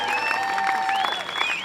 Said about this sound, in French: applaudissons très fort les participants et participantes à la 10e édition de la Coupe Leblanc